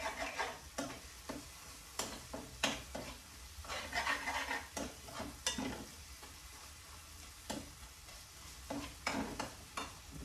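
Squash and other vegetables frying in a pan while a utensil stirs them, with repeated scraping strokes over a continuous sizzle and clinks of cookware, no talking.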